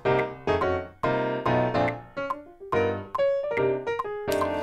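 The piano part of a big band jingle plays punchy, rhythmic chords with crisp attacks and short decays in an upbeat, syncopated pattern, clear and fairly loud with no talking.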